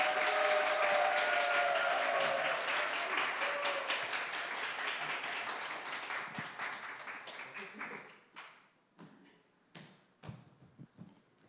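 Audience applause at a school presentation event, dense and steady at first, then thinning over several seconds into a few scattered, isolated claps near the end.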